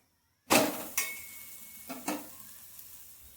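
A roti cooks in oil on a pan, with a sudden sizzle followed by a few sharp clinks and scrapes against the pan that fade to a quiet hiss.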